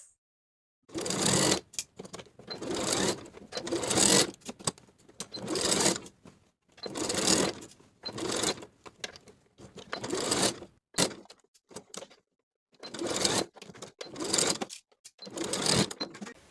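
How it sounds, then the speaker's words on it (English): A domestic sewing machine stitches a skirt to its waistband with a half-inch seam, running in about nine short whirring bursts separated by brief pauses, close and clear with no talk. "Now I'll sew together with a 1/2 inch seam allowance."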